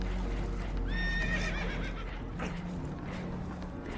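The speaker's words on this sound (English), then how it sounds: "Horses are spooked, and we're taking on water." Spooked horses on a leaking boat whinny loudly in Red Dead Redemption 2, one long quavering neigh standing out near the start over hoof clatter and a low background rumble.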